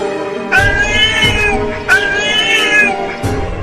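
A large cartoon cat meows loudly twice, long drawn-out cries close by, with a shorter third call starting at the end.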